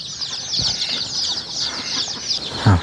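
Backyard chickens raised at home in a rural Thai setting cluck and stir nearby, with a rustle of wings and a louder burst of clucking near the end, no talking.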